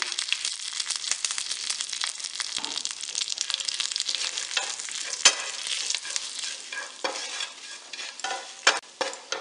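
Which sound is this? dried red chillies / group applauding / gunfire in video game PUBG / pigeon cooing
dried red chillies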